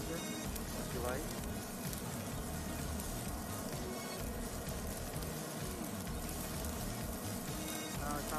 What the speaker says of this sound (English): Let it stir fry a little bit.